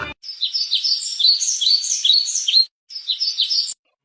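A myna bird calls in a continuous run of bright, varied chirps and whistles, close and clear, with a short break before a second burst.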